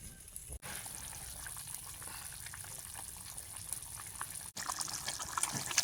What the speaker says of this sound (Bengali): দিয়ে দিচ্ছি পরিমাণ মতো জল